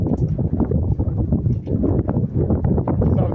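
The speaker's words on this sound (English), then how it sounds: "Here comes the wind." Strong wind gusts across an outdoor microphone on a warm day near Kanab, Utah, a loud continuous low rumble and buffeting that holds steady and close throughout, with no voices.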